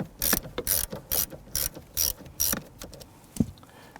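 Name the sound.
10mm socket ratchet loosening battery ground terminal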